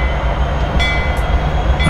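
Rumble of a long CSX container train of about 60 wagons behind a GE AC6000CW locomotive in Train Simulator 2019, a steady loud rolling drone with faint tonal whines throughout.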